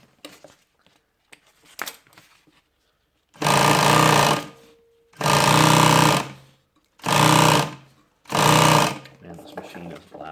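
Loud industrial sewing machine running in four sustained bursts of a few seconds each, separated by short pauses, with quieter handling noise and faint background sounds between runs.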